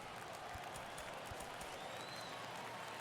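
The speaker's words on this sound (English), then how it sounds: "Crowd locked in right now." A ballpark crowd murmurs and cheers steadily during a tense ninth inning in MLB The Show 22, Yankees versus Tigers in spring training, forming a constant distant wash of noise with a few faint thumps beneath it.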